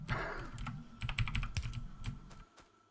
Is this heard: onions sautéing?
no